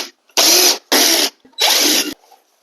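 Power drill backing four Phillips screws out of the airbox cover on a Honda CRF250L Rally motorcycle; three loud, close whirring bursts of under a second each, separated by brief pauses.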